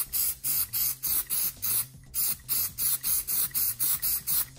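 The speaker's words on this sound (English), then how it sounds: "it smells like aerosol can spray" An aerosol spray can applied to a Capcom Big Blue arcade monitor gives a rapid series of about a dozen short, sharp hissing bursts in an even rhythm, close and fairly loud, with brief gaps between them.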